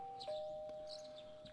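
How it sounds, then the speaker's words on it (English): A doorbell chime from the Persona 4 Golden video game, a single clear electronic tone ringing out and sustaining over quiet background, with no talk. "You hear the doorbell ringing."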